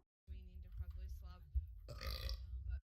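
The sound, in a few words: burp replayed on stream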